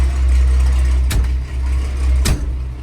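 A David Brown tractor's engine runs steadily and loudly close by, with a deep low rumble throughout and two brief sharper bursts along the way.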